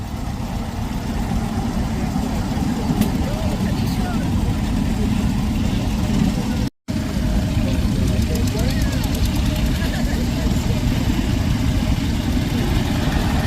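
A little grey Ferguson tractor idles at a steam show, its engine a steady low chugging rumble throughout with a brief dropout midway, busy outdoor noise around it.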